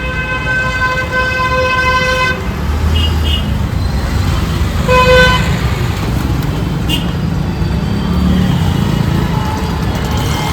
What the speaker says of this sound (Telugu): మొత్తం ట్రాఫిక్ అనిపిస్తుంది, ఏం వినిపిస్తుంది.